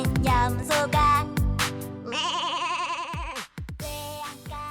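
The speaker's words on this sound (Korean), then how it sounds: "대나무 밑엔 염소가" A goat bleats with a wavering, quavering cry within a children's song about farm animals, set against music and sung voices before and after.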